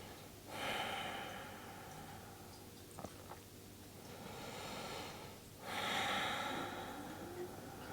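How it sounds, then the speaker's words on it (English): Slow, deep yoga breathing: two long audible breaths, an inhale-like rush near the start and another toward the end, soft and close with a quiet pause between. "Long inhales. Long exhales."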